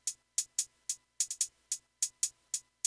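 Crisp, bright hi-hats of a drill beat tap out a syncopated tresillo rhythm, eleven or so short ticks in uneven groupings, fairly quiet and alone with no other drums.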